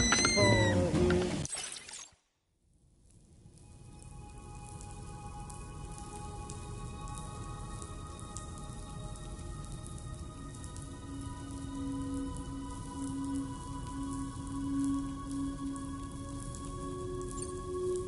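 Rain falling in the video game Death Stranding 2: a steady hiss of drops that starts after a brief burst and a short silence, then continues evenly under sustained musical tones, gradually swelling.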